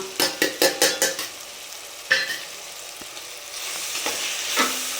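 Chicken biryani in a pan being stirred with coriander and mint, opening with a quick run of sharp metal utensil clatters, then a softer ongoing sizzle with occasional scrapes.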